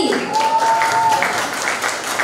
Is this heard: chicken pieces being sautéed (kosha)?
no